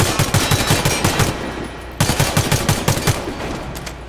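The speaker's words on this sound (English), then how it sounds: "you want to try to keep moving, and you want to try to keep firing in smaller bursts." Gunfire in the video game Warface comes in short repeated bursts of a few rapid shots each, a brief pause between groups, loud and close with no talk over it.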